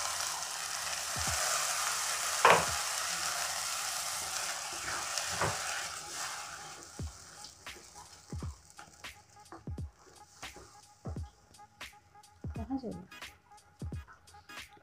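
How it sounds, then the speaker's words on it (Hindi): Sweet corn puree hits a hot pan with a loud sizzle that fades after a few seconds, followed by a series of sharp scrapes and knocks of stirring in the pot. "अब इसमें हम जो स्वीट कॉर्न का प्यूरी बनाए थे, अब इसको डाल देंगे।"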